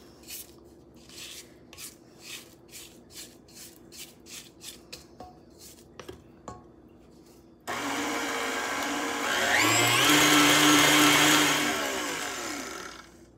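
Sweet potato pie filling in a bowl: rhythmic scraping strokes at first, then an electric mixer switches on with a loud whirring motor that rises in pitch as it speeds up and beats steadily to the end.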